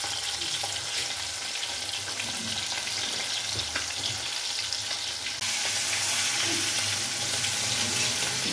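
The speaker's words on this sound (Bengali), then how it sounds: "কড়াইতে তেল গরম করে নিয়ে ইলিশ মাছের টুকরোগুলো ছেড়ে দিবে" Pieces of hilsa fish sizzle and spit in hot oil in a kadai, a dense, continuous frying crackle that grows slightly louder partway through, with no voices.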